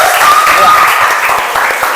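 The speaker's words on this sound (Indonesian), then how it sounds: "berikan tepuk tangan untuk kelompok 2" Steady applause from a university class group, a continuous wash of clapping hands throughout the short moment.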